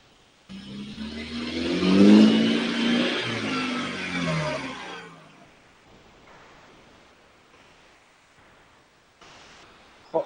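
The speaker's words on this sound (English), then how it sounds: "Hotly followed by another car behind them." A race car at a live motorsport event roars in, its engine revving loudly as it passes close by, then fades quickly to a faint distant drone with a brief thump near the end.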